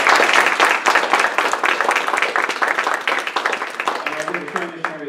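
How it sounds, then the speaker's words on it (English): An audience at a candidate forum for state House district seats breaks into sustained applause, many hands clapping loudly and thinning slightly toward the end, where a voice begins to speak. "Give them a round of applause."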